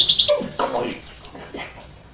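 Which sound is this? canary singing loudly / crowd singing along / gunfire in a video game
canary singing loudly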